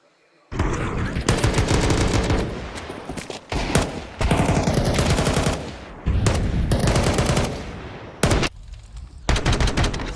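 Sustained automatic rifle fire from FAMAS rifles during a Counter-Strike esports match, loud bursts packed densely with brief gaps, running almost continuously through the clip.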